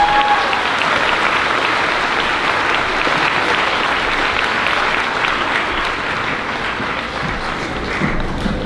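Audience applause at a 5th grade school moving-up ceremony, a dense, steady round of clapping from a large crowd of parents and families that fills the whole stretch without letup.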